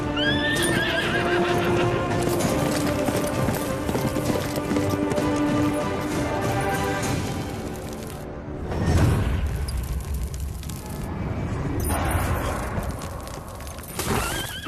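A horse neighs and whinnies repeatedly with hooves clip-clopping beneath, loud and continuous amid a dense film-score mix with deep booms.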